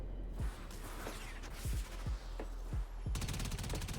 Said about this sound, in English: There's a lot of bullets. Like, that is a lot of bullets.